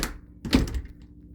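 A single solid thunk of a door swung shut inside a bus, close and fairly loud, followed by a short rattle and quiet.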